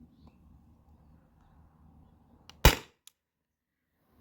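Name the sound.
CO2 pepperball launcher firing Alien Play riot balls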